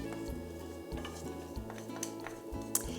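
Chopped garlic sizzles in olive oil for a rustic Sardinian dish, giving a soft steady crackle with faint clinks of a pan and utensils close by.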